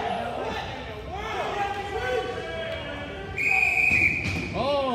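A referee's whistle sounds in a tone held for about a second during an ice hockey game, while a commentator talks over the steady hum of an arena crowd.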